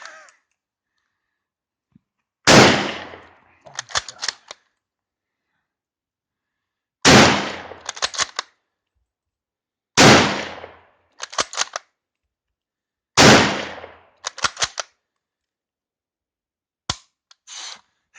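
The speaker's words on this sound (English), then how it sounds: "going to do his 15 rounds standing up at 50 yards without the bayonet on" A Yugoslavian M48 Mauser rifle is fired at an outdoor range at 50 yards: four loud, sharp shots spaced a few seconds apart, each trailed by quick metallic bolt clicks, with faint clicks near the end.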